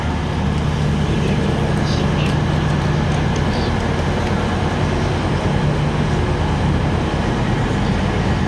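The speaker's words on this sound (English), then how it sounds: "the wonderful journey with Transpennine Express today from Scarborough to Manchester Piccadilly on board this Nova 3 set" A TransPennine Express Nova 3 train on the Scarborough to Manchester Piccadilly line runs with a loud, continuous low rumble and rattle heard from on board, steady throughout.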